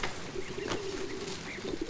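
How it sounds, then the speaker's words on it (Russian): Pigeons coo faintly in low, soft murmurs, almost buried in a constant outdoor hiss, with no voices present. "Это голуби такие."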